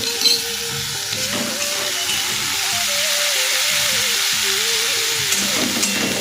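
Onion paste and ginger-garlic paste fry in a pan with a steady, close sizzle that holds for several seconds, with a faint tonal hum running underneath.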